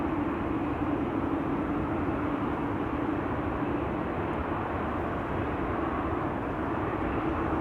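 Steady broadband drone of a Dash 8 turboprop near an airport, with a faint low propeller hum running continuously at moderate distance and no voices.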